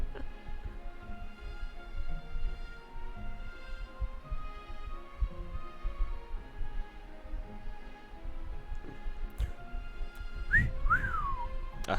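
Someone whistles a wavering tune, faint and thin at first, then briefly louder with sliding notes near the end over a low background rumble.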